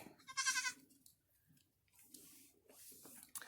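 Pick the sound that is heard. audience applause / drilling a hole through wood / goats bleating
goats bleating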